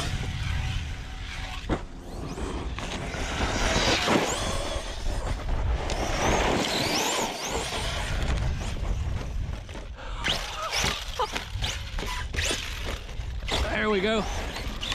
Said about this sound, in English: Guys, this thing has tons of torque for that 2050 kV motor.